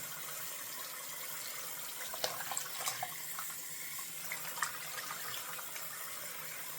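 Hot water runs from a tap into a sink as it fills, a steady rushing gush with a few light splashes and clinks, close and moderately quiet, with no speech.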